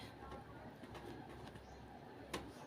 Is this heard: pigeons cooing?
yes